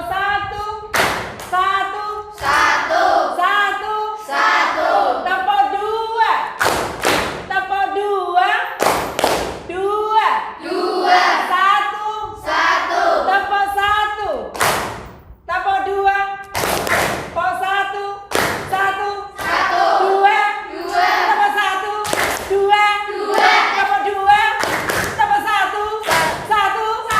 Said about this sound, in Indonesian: Tepuk 2, silakan tepuknya 2 kali